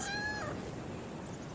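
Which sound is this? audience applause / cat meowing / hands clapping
cat meowing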